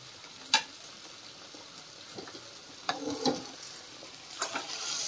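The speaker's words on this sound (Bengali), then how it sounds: "এবারে সবজিগুলো চাল ডাল যা ফুটছিল ওতে ঢেলে দেবো।" Chopped vegetables tipped into a pot of simmering rice and lentils for khichuri, heard as a few scattered clatters and splashes with soft stirring and a low bubbling bed, no voices.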